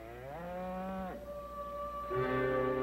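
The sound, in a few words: cattle mooing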